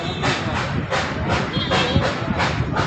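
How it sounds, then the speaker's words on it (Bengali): The Darjeeling toy train runs at Batasia Loop, heard close and loud as a steady run of rhythmic chuffing bursts over a rumbling rail hiss, with faint voices nearby. "টয় ট্রেনও এসে গেছে"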